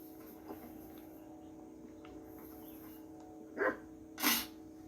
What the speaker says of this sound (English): There's a dog somewhere.